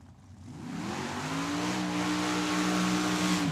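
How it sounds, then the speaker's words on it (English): A dragster at Tucson Dragway revs up, its steady engine drone climbing and holding loud, with a rising harmonic whine and continuous roar from start to finish, no voices over it. "As we have the dragster here on the left-hand side"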